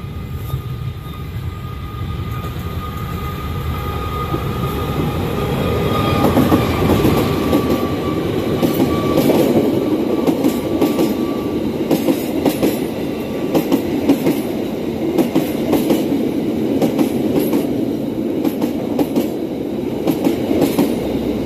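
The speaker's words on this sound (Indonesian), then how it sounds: "Dan mesin lokomotif semakin dekat terdengar." A diesel-locomotive passenger train, the Lodaya Pagi, rumbles past close by, its engine droning loudly as wheels clatter rhythmically over the rails, sustained throughout.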